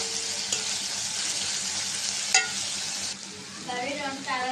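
Pabda fish frying in a pan with garlic, onion paste and green chillies, a loud, close, steady sizzle with occasional stirring and scraping sounds.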